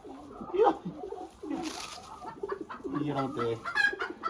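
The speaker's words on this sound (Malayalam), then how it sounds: "രണ്ട് നാടൻ കോഴികൾ" Two native country hens clucking and murmuring nearby in short irregular bursts, with some cooing mixed in and a faint voice in the background.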